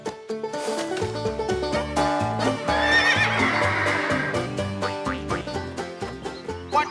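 A cartoon horse on a farm lets out a long whinny over a bouncy music score, with rhythmic clip-clop hoof beats and other comic effects around it; fairly loud and close, with no talking.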